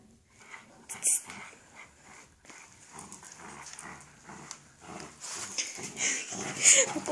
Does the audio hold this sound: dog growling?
yes